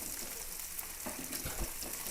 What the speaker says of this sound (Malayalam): ഇതിലാണ് ഞാനിപ്പോൾ വറുക്കുന്നത് കേട്ടോ മീനൊക്കെ.